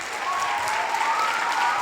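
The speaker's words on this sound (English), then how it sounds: "Let's give them a round of applause" Steady applause from a school Christmas band concert audience, an even, continuous wash of clapping in a hall with faint voices mixed in.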